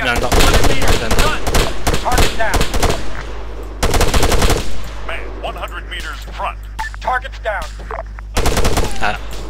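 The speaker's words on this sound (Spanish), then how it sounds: "Esto es toda la base de tiro que tenemos, es decir, tenemos 200 tíos disparando." Dense gunfire from about 200 soldiers shooting on a firing range in the Arma 3 video game, rapid machine-gun bursts and overlapping shots rattling loudly throughout, with brief pauses and talk in between.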